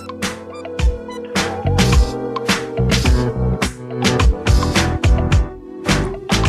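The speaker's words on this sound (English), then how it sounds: "when Doc speaks, the music sounds like this" Full band music plays steadily with punchy drums, bass and layered harmonic instruments, loud and continuous with no voices over it.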